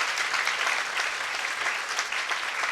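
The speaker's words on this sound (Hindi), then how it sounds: "भरपूर तालियों में उन्हें भी खुशामदीद कहते हैं" Congregation applauding during a Christmas Day Mass in church, a steady, dense wash of many hands clapping at once, moderately loud and sustained throughout with no voices standing out.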